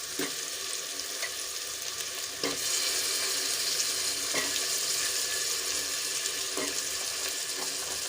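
Potatoes tipped into softened tomatoes in a pressure cooker for aloo matar pulao, then stirred, give a steady close sizzle with periodic scraping stir strokes and a brief louder rise as the potatoes go in.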